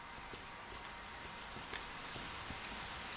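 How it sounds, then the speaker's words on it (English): Steady rain pattering on surfaces in the game Resident Evil 2, a continuous soft hiss with scattered droplet ticks throughout, no voices. "I don't like the sound of rain."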